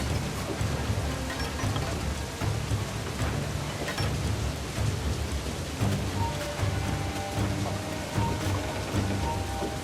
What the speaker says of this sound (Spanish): Casi tenemos encima la tormenta.